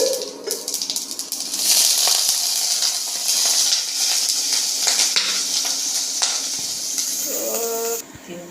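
Steady crackling sizzle of mustard seeds popping in hot oil, continuous and fairly close, with a brief metallic scrape near the end.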